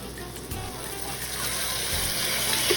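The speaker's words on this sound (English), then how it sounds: "Now, to make sure that this doesn't turn to caramel candy, I'm gonna add a little bit of my water," Filtered water is poured into a hot pan of cooking onions, a steady gushing splash with sizzling hiss that builds slightly in loudness, close by and without talk.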